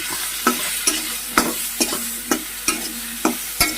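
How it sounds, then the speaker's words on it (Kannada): Ingredients for a tomato chutney roasting in oil while a spoon stirs and scrapes the pan in a regular rhythm, about eight close knocks over a constant sizzle; no voices. "ಸ್ವಲ್ಪ ಎಣ್ಣೆ ಹಾಕ್ಕೊಂಡು ಹುರಿಬೇಕು ರೀ"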